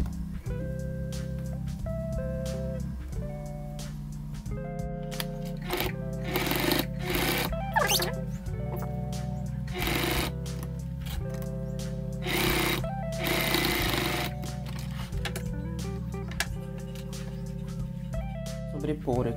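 Domestic sewing machine stitching a fabric bag, a steady rhythmic mechanical whir in repeated runs of a few seconds each with short pauses between, close and clear, while someone talks over it.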